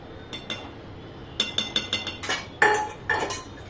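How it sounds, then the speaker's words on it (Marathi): Fenugreek mixture being stirred and roasted in a metal pan for sweet methi laddoos, sharp spoon clinks and scrapes in short bursts, close and moderately loud, with no talking. "हे बघा आता आपण हे सगळं मिक्स करून घेऊ आणि व्यवस्थित छान असं भाजून घ्यायचं"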